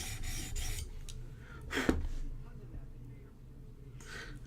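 A Koenig Arius knife rasps against a sharpening stone in a few short scraping strokes, close and fairly quiet, with a louder scrape midway and a person talking over parts of it.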